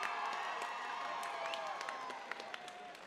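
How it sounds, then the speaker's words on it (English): Distant crowd applause with scattered cheers and whoops, a soft continuous patter of clapping rather than a close, sharp burst. "Give it a round of applause, ladies and gentlemen"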